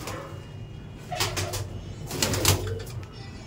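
Pigeons in a pigeon loft give soft, overlapping low coos against a quiet background, with a few sharp flutters or scrapes between them; no one speaks.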